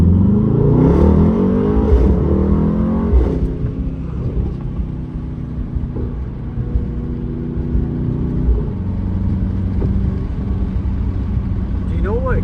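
A Mercedes-AMG GT63s with a custom straight-piped exhaust growls and revs while driving at night, loud engine pulls rising and falling under occasional talk inside the car.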